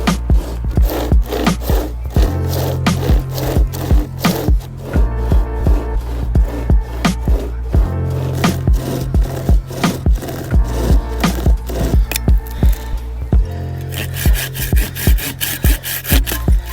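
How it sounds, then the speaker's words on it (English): A bladed hand gadget saws through a wooden log in quick, rhythmic back-and-forth strokes, loud and close, running steadily for the full length with brief pauses and splintery rasping near the end. "Obviously put it on the underside of the log and then cut away."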